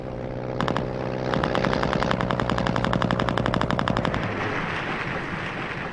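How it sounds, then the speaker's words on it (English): Heavy anti-aircraft machine-gun fire aimed at low-flying World War I bombers, a rapid, rattling burst of evenly spaced loud shots over a rumbling background, then fading into a rushing noise. "came under increasingly heavy anti-aircraft fire"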